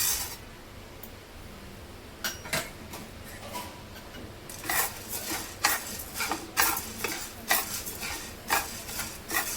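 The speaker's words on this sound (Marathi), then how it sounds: "1 वाटी ज्वारी भाजून घेऊया." Grains of sorghum (jowar) dry roasting in a pan over low heat give off a dry rattle and clatter, quiet at first, then a run of distinct scraping ticks and taps from stirring.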